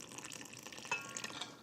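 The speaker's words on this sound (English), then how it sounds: "put about 50 milliliters of lukewarm water" Lukewarm water trickles quietly onto flour and fresh yeast in a small well for bread dough, a faint brief pour with soft splashing.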